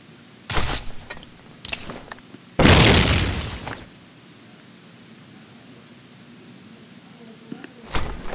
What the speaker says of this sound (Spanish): Le lanzó granadas, pero no sé, ni no le llegaron al güey